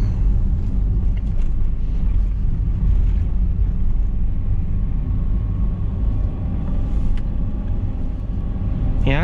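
Manual Daihatsu Sigra engine accelerating on an uphill road, a steady low rumble that holds loud and continuous with faint wind noise throughout.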